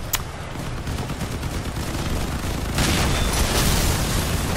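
Cannon fire in the vehicle combat game Crossout: dense, continuous booming gunfire and blasts that grow heavier toward the end, loud and close, without speech.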